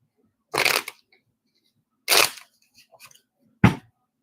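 Tarot cards are shuffled in three short rustling bursts separated by pauses, close by and crisp, with small handling clicks between them.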